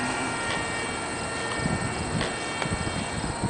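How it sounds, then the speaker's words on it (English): Electric motor of a Teksumo RC plane running on a 3-cell 1800 mAh LiPo battery in flight outdoors at a park, a steady broadband whir with wind noise, moderately distant and continuous with slight swells. "The motor is powerful enough to"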